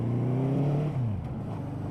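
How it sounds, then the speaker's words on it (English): A 1976 Honda 400-4 motorcycle engine accelerating on a ride, close and loud, with rising harmonic revs that waver and stutter slightly before settling into a steady drone. "The engine sounds gorgeous. It's just a little bit stuttery"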